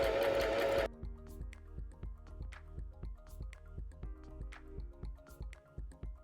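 A sewing machine stitches children's fleece sweatshirt fabric for a winter pajama, a loud continuous run at first, then a slow sequence of soft individual needle thumps with faint clicks.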